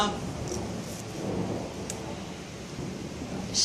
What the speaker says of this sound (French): c'était un gros tonnerre